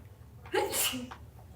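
A single sharp sneeze, close and fairly loud, with a quick breathy burst and a voiced tail, then quiet room tone.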